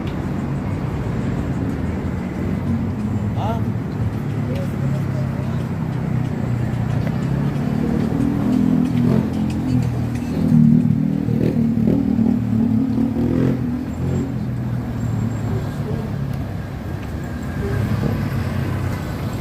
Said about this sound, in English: So all those cars that are turning are heading into the Queens Midtown Tunnel